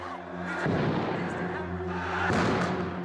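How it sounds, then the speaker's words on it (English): Rumbling booms and dull blasts roll over a low continuous roar, with a couple of heavier bursts standing out from the din. "We counted at least 6 separate explosions."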